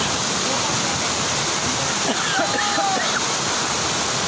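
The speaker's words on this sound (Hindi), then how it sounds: "बहुत अच्छा वाटरफॉल है यहाँ पर" A waterfall near a hotel in Manali roars in a loud, steady, continuous rush of falling water, with no break across the whole stretch.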